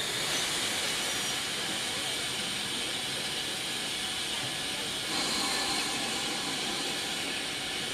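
GWR 5700 class pannier tank steam locomotive 5764 on the Severn Valley Railway, giving a steady loud hiss of escaping steam with rumbling chuffs beneath, a brief louder surge near the end.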